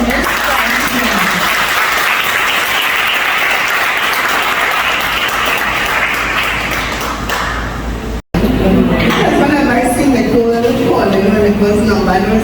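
A crowd at a childcare training gathering claps loudly and continuously for about eight seconds; after a brief cut, voices and other room sounds take over.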